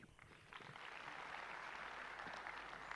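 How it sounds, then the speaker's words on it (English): Audience applause at a ceremony on sustainable urbanisation in Addis Ababa, a continuous dense patter of many hands that rises after the first half-second and holds steady, fairly distant. "let us all give a big round of applause to all our partners"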